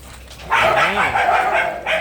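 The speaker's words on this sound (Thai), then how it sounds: "อ่าแม่ไม่ให้กินนมแล้ว แม่ขู่จะ งับลูก" A mother dog growls and snaps at her puppy, a close, loud snarling whine that rises and falls for over a second.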